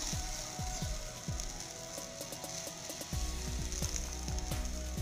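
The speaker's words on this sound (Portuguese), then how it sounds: "Vou deixar fritar desse lado pra gente poder tá virando" Banana pancake batter frying in a pan, a steady soft sizzle running throughout with repeated quick ratcheting clicks layered on top, fairly quiet and close.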